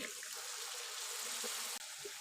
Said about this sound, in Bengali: কিছুক্ষণ নাড়াচাড়া করার পর সামান্য একটু পানি দিলাম।